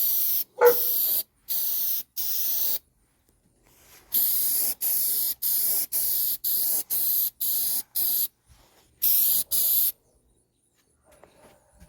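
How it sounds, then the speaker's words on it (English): K&N filter oil sprayed from an aerosol can onto the pleats of a cleaned K&N air filter: a series of close, loud, hissing spray bursts, mostly about a second each, separated by short silent gaps, with a final pair of bursts. "you're going to take the filter oil here and make sure each ridge is coated perfectly."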